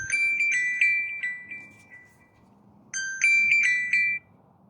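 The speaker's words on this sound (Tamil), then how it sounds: "ஃபோன் வந்துடுது." A phone ringtone for an incoming call plays two loud bursts of bright electronic melodic tones, separated by a short gap, close and clear over a quiet background.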